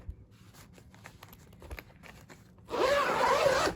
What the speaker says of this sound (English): if we open up this outer bag here